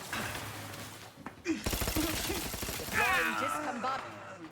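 Gunfire from a weapon in The Outer Worlds, a rapid run of loud sharp shots in the middle of the clip, with someone talking before and game voices speaking over the end.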